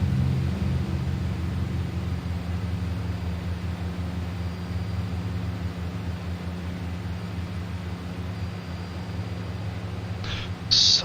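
A steady low Twin Otter twin-engine drone in a flight simulator game hums continuously with an even airy roar, broken by a brief louder rustle near the end.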